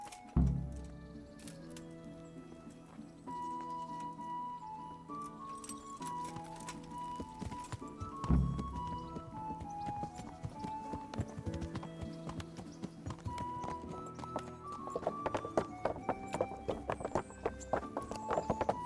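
Horse hooves clip-clop at a walk in the video game Kingdom Come: Deliverance, a steady rhythm of hoof strikes moderately close, mixed under a background music score with some faint metallic tack jingles.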